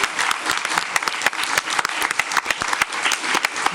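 Applause for a student at a school district board meeting, a steady patter of many hands clapping together across the room, dense and continuous with sharper individual claps popping out.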